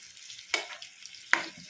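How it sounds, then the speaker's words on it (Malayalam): Okra sautés in coconut oil for a vendakka mappas curry: a faint, quiet sizzle punctuated by two sharp utensil clinks against the pan, with no speech. "ഇത് ഈ വെളിച്ചെണ്ണയിൽ കിടന്നൊന്ന് വഴറ്റുമ്പോഴത്തേക്ക്"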